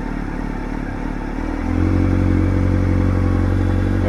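A motorcycle engine idles steadily close by, its low, even rumble rising in pitch and loudness partway through as the idle speed is raised, with faint mechanical clatter underneath.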